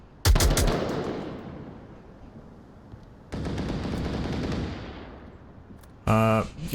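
Gunfire in a VR shooter match: a sharp burst opens, then fading rapid fire, another sustained volley midway and a final loud burst at the end.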